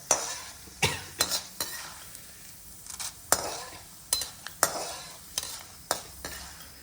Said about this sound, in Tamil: இந்த கடலைப்பருப்பு, உளுத்தம்பருப்பு நல்லா சவக்க வறுத்தாச்சு.